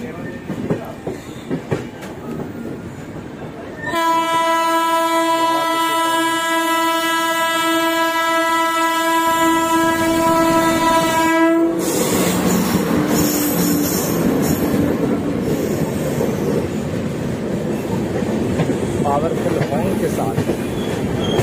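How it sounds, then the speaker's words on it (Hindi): A train arrives at Deen Dayal Upadhyaya (DDU) Junction railway station in India, sounding a loud, sustained horn blast for several seconds over rumbling wheels and carriage clatter, with some voices briefly heard before it. "से कोई ट्रेन आते हुए"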